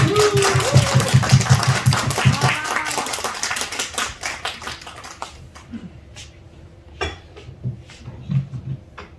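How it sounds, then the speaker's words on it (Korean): A church congregation at a New Year's Eve service claps in welcome, a brisk patter of hands that fades after a few seconds, followed by sparse scattered claps and quiet voices. "박수로 환영하겠습니다"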